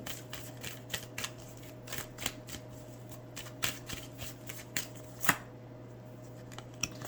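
Angel oracle cards are being shuffled for a reading, a quiet, close riffle of card stock with repeated soft slaps and flicks at an irregular rhythm, and no one speaks.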